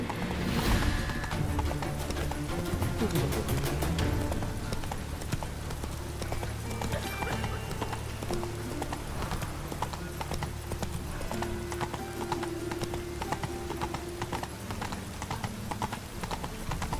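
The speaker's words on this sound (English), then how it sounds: "Oh, whoa there, Roach. Slow now." A horse gallops in The Witcher 3 with continuous rapid hoof clip-clop at a steady rhythm, loud and close, joined by game sounds and a brief snort or whinny near the start.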